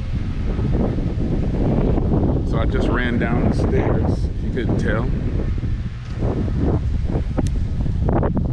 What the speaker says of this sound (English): It is so windy out here, folks, you would not believe.